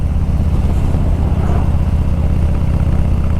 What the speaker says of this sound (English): So I'm going back to the loud exhaust, the Cobra EL Diablo 2-in-1.